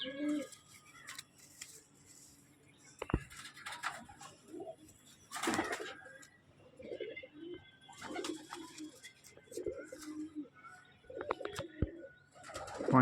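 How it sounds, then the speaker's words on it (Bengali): A Kalshira pigeon coos in a loft, with low throaty phrases recurring through the stretch, mixed with flapping, scratchy handling noises and sharp clicks close by. "এটা কালশিরা পায়রা শখ করুন"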